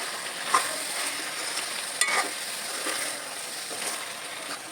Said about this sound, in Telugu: చికెన్కి నేను ఉండే టమాటాలు వేస్తున్నాను కలుపుకోవాలి